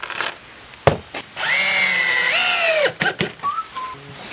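A power drill drives screws to join wooden boards into a square frame, a whining motor rising in pitch for over a second, with sharp knocks and clatter before and brief drill bursts after.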